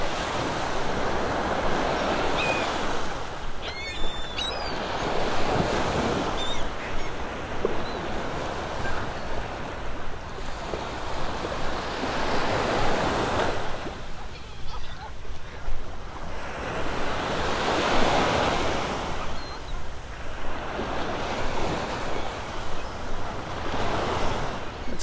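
Ocean waves break and wash up on Vanderbilt Beach in Naples, Florida, with surges of surf swelling and receding every few seconds under steady wind noise on the microphone.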